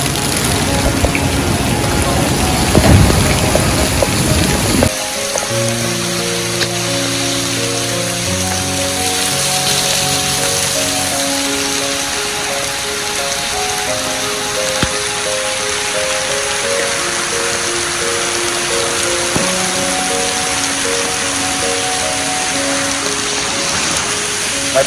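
Heavy rain during a typhoon in Boracay hisses steadily throughout, with a louder splashing start and faint tonal sounds running underneath.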